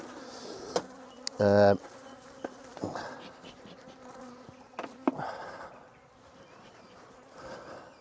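Honey bees hum and buzz around an open apiary hive that may be queenless, a close, steady insect drone punctuated by a loud bee passing near, with occasional handling knocks.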